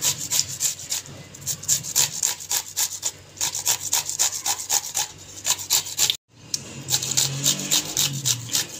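Cucumbers for Pahadi raita being crushed by hand, giving a steady run of rough rubbing and scraping strokes up close, pausing briefly before continuing with coarser grinding.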